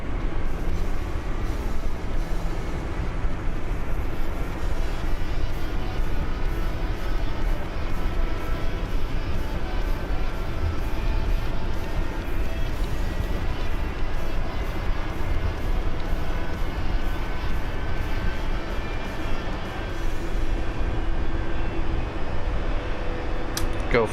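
A light airplane engine idles steadily after starting, a constant broadband drone with a low rumble that holds even and close throughout, with no notable change in pitch.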